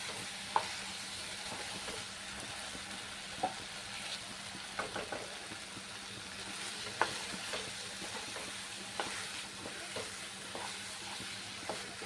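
Slit green chillies and curry leaves fry in oil in a pan for a Bengali rui posto fish dish, a constant close sizzle broken by repeated scrapes and clacks of a spatula stirring.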